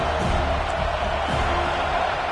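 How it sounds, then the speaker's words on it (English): Distant roar of a football stadium crowd at a Florida State versus Georgia Tech game, a steady wash of cheering and noise heard from far off, no clear talk. "This crowd bringing the energy and noise early."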